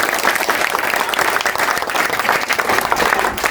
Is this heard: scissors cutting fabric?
no